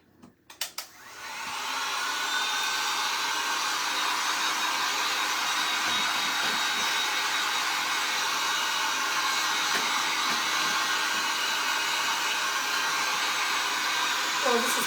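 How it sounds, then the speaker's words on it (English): Adjustable heat tool blowing hot air to dry a craft project, starting with a brief click and then a steady, loud whooshing roar that continues unbroken with no one speaking over it. "This is a pretty cool heat tool, you guys. You can adjust how much it blows out and the temperature here"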